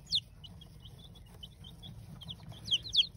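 Thin, high-pitched cheeps from young chicks come in scattered short bursts, louder near the end, over a soft low background hum.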